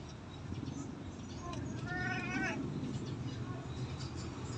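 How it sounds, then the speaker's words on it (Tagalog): A mother cat with her three orange kittens gives a single short, high meow midway through, heard close over a steady low background hum. "Ito yung mga kitten. Ito yung nanay nila, Leslie"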